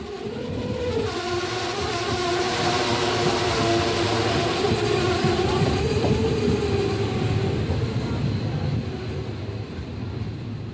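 A passenger train on the Trichy to Tiruvarur line via Thanjavur runs along the rails with a steady loud rumble, while high wheel squeals rise and fall throughout.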